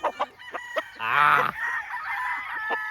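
A Golden Boy gamefowl rooster crows once with a loud, drawn-out call at a farm, preceded by a few short clucks and followed by farmyard background.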